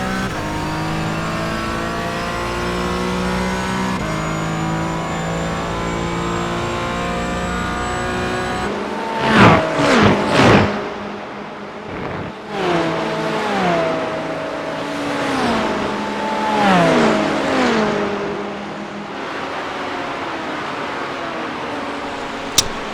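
A McLaren GT4 race car at Spa, heard from inside a competing car whose steady engine drone carries through; the McLaren surges past with a loud rising and falling rev, followed by more shifting engine notes.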